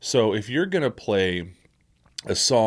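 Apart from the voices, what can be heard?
No everyday noise stands out behind the speech.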